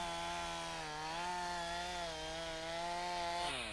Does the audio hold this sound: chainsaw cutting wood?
yes